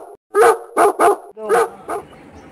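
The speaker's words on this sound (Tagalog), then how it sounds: "Yung bayani nating aso, si Bantay." A dog barks five times in quick, loud bursts at close range, with short gaps between the barks and no talking.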